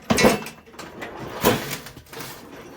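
A snowblower is tipped up onto its end on a concrete floor, giving two loud scraping, clanking thuds about a second apart with quieter rattles between them.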